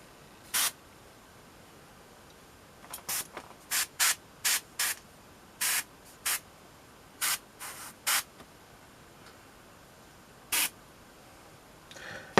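An airbrush spraying paint onto a Blood Angels Death Company miniature, heard as a dozen short, sharp hissing bursts of about a third of a second each, irregularly spaced and close up, with no talking.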